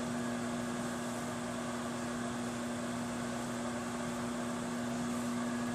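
A steady, unbroken mechanical hum with a constant low drone from a microwave oven cooking rhubarb sauce, alone with no voices.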